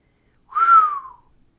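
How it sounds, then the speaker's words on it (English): A soft, long human whistle, a single smooth tone held for about half a second that glides gently downward and fades, alone in silence. "He gave a soft, long whistle."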